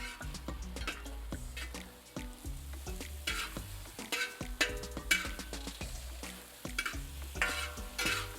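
Chorizo, sausage, ground beef and bacon sizzle in a discada while a utensil scrapes and clanks against the metal disc in steady, repeated stirring strokes, close and fairly quiet, without talk.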